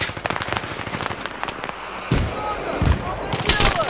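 Rapid gunfire and explosions from the video game Battlefield 3, with sharp repeated shots, a couple of heavier blasts, and someone talking excitedly over the action.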